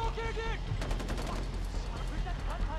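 Bursts of rapid gunfire ring out in the Far Cry 4 video game, dense crackling shots over game music and ambience, while a player talks over it.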